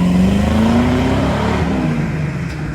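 A van with a tuned port 350 V8 engine accelerating hard, a loud, steady engine roar with a rising pitch that holds close and strong throughout.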